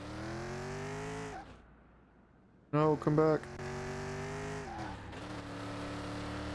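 A Chevy Nova's engine in Car Mechanic Simulator 2021 drones in steady tones on a race track, drops off briefly, then a sharp tire squeal bursts before the engine note resumes. A voice speaks briefly.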